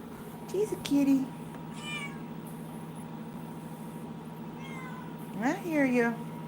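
A cat meows twice, a short mew near the start and a longer drawn-out meow near the end, over a low steady background hum.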